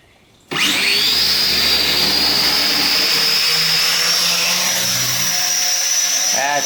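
A Sky Viper v950 quadcopter drone spins up abruptly and hovers with a loud, continuous high-pitched whine of buzzing rotors, close by and steady throughout.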